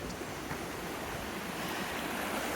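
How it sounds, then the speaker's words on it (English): The River Wey flows with a steady, soft, broadband rush of water at night, continuous and fairly faint with no voices. "this is the River Wey, or part of the River Wey"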